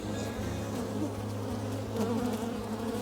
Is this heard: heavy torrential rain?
no